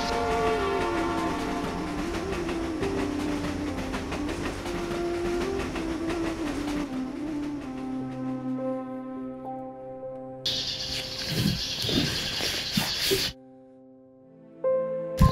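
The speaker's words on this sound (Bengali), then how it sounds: "আমার ট্রেন আসার সময় হয়ে গেছে।" A train pulls in with a long, steady horn over a continuous rumble of rolling wagons. The sound then turns to a brief burst of hissing brakes or screeching before it quiets.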